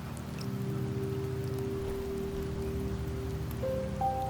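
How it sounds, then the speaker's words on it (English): Rain falling in the Wuthering Waves video game, a steady soft patter washing over a low sustained musical drone, with a brighter tone entering near the end. "The rains in Septimont never seem eager to leave this season."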